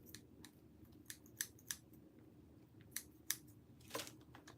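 Scissors snip through craft material in a quiet room, a series of sharp, close clicks spaced irregularly, ending with a louder double cut.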